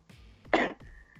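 One person gives a short, harsh cough or throat-clear at close range, bracketed by quieter breathy sounds.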